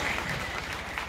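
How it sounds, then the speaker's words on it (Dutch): An audience at a live quiz event gives a warm round of applause, a dense, steady wash of clapping that stays loud for the whole short stretch. "En een hartelijk applaus voor Ellen!"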